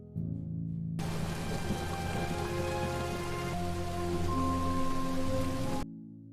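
Heavy rain pours down in a dense, steady hiss that starts abruptly, holds at full strength for several seconds, then cuts off, with a faint low hum underneath.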